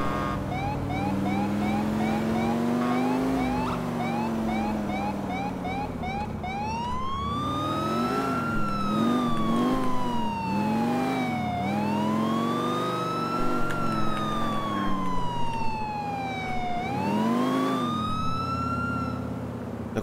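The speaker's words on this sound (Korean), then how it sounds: "거의 다 왔으니까 사이렌 끄고." Wailing police car siren from GTA IV, rising and falling in long sweeping cycles over a steady engine drone, loud and continuous throughout.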